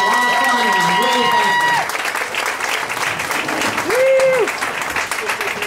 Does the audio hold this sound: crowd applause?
yes